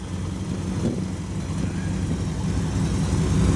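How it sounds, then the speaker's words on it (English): A 1929 Chrysler driving on a cold day, its engine droning steadily with floorboard and exhaust pipes rattling against the cross members, loud and continuous from inside the car. "just the floorboard rattling and exhaust pipes rattling on the"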